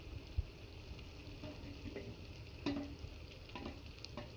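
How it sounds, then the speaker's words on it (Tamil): Shallots and green chillies sautéing in a pan for a Tamil fish curry, with a soft, steady sizzle and occasional scrapes and taps of a stirring spoon against the pan, no voices. "வெங்காயம் நல்லா வதங்கிடுச்சு. இப்போது பச்சை மிளகாய் ஆட் பண்ணிக்கலாம்."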